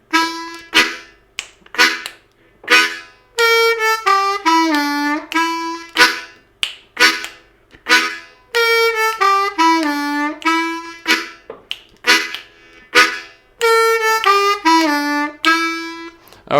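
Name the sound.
chugging lick on an A harmonica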